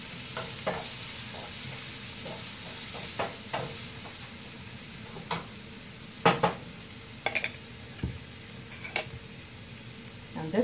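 Chicken sizzles and fries in a pan with grated ginger and garlic, a steady crackling hiss broken by sharp clinks and scrapes of a utensil stirring against the pan.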